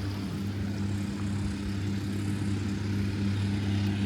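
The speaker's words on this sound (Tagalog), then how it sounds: "Ayun yung mga long tail boat" Long tail boat engines on the water off a Krabi beach in Thailand: a steady, droning low motor hum with a rough throb, continuous and moderately close, with no talking.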